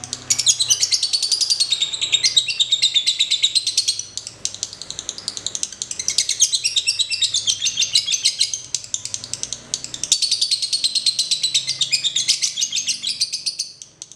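A caged songbird sings bright, rapid trilling phrases in three long bursts with short pauses between, close and clear with little else around.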